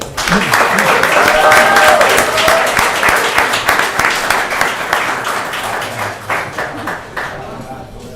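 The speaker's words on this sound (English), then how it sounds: "can we give them all a round of applause?" Applause at a city council meeting, a full round of many hands clapping in a chamber, strongest early and gradually tapering into scattered claps, with voices talking underneath.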